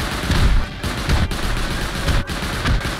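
Automatic turret firing in the survival game Rust, a sustained rattle of rapid gunfire bursts that carries loudly across the whole moment with brief gaps between volleys.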